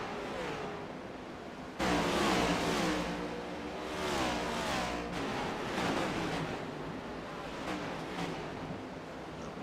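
NASCAR Next Gen stock cars racing at Bristol Motor Speedway in the iRacing video game, a loud continuous engine roar with rising and falling revs as cars pass close by, swelling sharply after a short quieter opening.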